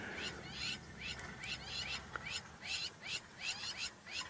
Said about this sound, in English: You can hear there's some lapwings, some birds shouting at it.